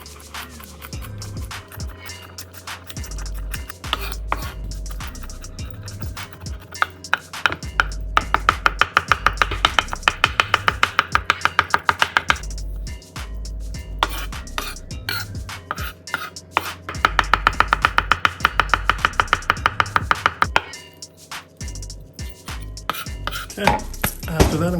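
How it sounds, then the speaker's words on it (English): Rapid rhythmic knife chops on a cutting board as garlic is minced for a vegan burger, in fast bursts of crisp taps separated by short pauses, close and clear with no talking. "I'm gonna take all that garlic I just minced."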